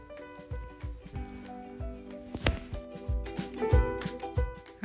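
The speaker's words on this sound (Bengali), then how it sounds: "ছিলে নিয়ে 2 ফালি করে নিব শিমটা" Flat beans being sliced into two pieces on a cutting board in a home kitchen, a series of close knife taps and chops repeating irregularly, with background tonal hum and no talking.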